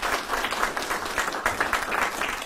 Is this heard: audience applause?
yes